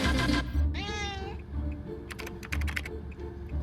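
A cat gives a clear, close meow with a rising then falling pitch, followed by a burst of rapid keyboard typing.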